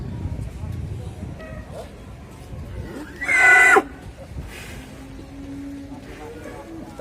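A single loud cow moo rings out briefly in the middle, over a steady low background murmur of an outdoor livestock area.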